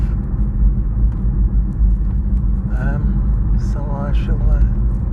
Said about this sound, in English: we're riding along in my wobbly bobbly BMW I3 bumpity bump